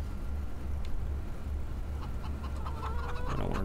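Chickens clucking in the farming game Farming Simulator 22, soft scattered calls over a steady low rumble, growing busier toward the end.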